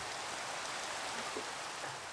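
Steady, dense rain hisses without a break in Minecraft version 1.16.5, a broadband wash of falling drops that stays even and fairly loud throughout, with no talking over it.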